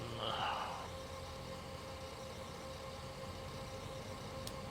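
Engine 1 of a Saab 340 running in MSFS 2024, a steady droning turboprop hum with a faint whine, heard at a moderate distance after a brief louder swell at the start.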